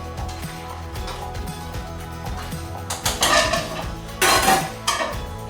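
A spoon scrapes and clinks inside a pot of boiling homemade chicken dumplings, with soft stirring knocks that build into a few louder metallic clatters near the end.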